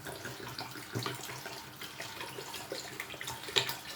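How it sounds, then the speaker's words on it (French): Liquid alcohol being poured into sugar for homemade elderberry wine, a continuous splashing trickle close by with small clinks and no talk. "je vais verser l'alcool aussi pour aider le sucre à fondre"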